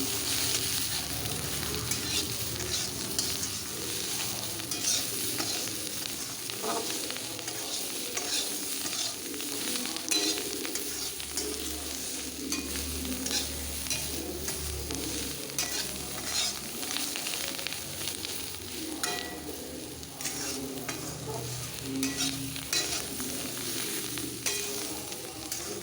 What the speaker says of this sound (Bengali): আমি আবার নাড়াচাড়া করে দিচ্ছি।